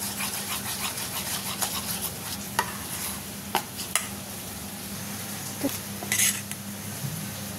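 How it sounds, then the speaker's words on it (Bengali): Pancake batter sizzles in a hot pan in a home kitchen, a steady frying hiss broken by occasional sharp clinks and scrapes of a utensil against the pan. "তো চলে এখন আমরা এগুলো ভেজে নেব।"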